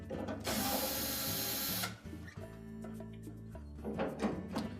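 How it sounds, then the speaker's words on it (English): A cordless drill or driver backs out two Phillips screws holding the top of a Whirlpool dryer to the inlet duct assembly, with a long whirring run followed by shorter mechanical bursts and clicks at close range. "That will give us access to 2 Phillips screws that secure the top to the inlet duct assembly, and we'll need to remove those."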